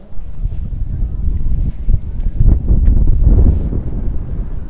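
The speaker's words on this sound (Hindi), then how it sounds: "साथियों, ठंडी हवा चल रही है जी।" Cold wind gusting at the ruined Bhangarh fort in Rajasthan, a loud continuous low rumbling buffet against the microphone that swells and dips throughout.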